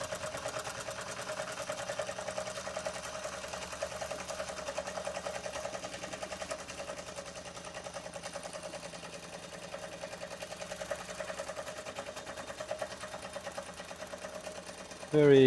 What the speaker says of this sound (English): This is a lovely running engine.